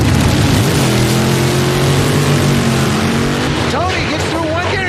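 Drag race cars, a Barracuda and a Challenger, roar loudly off the line at a racing event, engines droning and rising through gears with tyre squeal near the end, a crowd and commentary noise mixed in.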